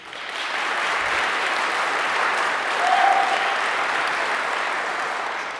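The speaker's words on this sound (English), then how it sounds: "you need to clap really, really, really hard" An audience clapping very hard together, dense sustained applause that swells slightly midway and holds steady to the end, a single whistle briefly rising above it.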